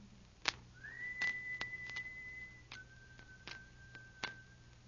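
A thin, steady whistled signal in an old radio drama: one held tone, then a second slightly lower held tone, faint over a background hiss with scattered sharp clicks and taps.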